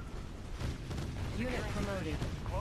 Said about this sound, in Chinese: 我们这个坦克直接冲过去打掉 重工